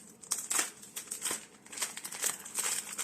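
A free gift package from an iPad Air 3rd generation rugged case order being cut and unwrapped, with close crinkling and rustling plastic in irregular bursts and a few soft snips, and no voices.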